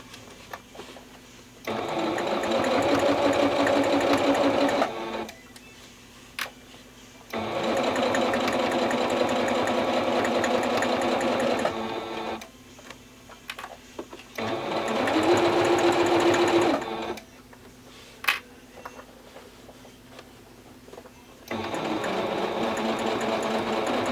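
A sewing machine stitches a satchel handbag near its hardware, running in four loud, sustained bursts of rapid whirring with short quiet pauses between them.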